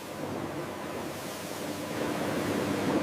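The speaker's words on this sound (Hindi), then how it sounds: "घूमते हुए ड्रम में लगातार साफ पानी आता है, जिससे मिट्टी और बाहरी गंदगी पूरी तरह निकल जाती है।" An automatic rotating drum washer washing figs with a constant flow of water produces a dense, steady rushing wash, close and loud, with no voices.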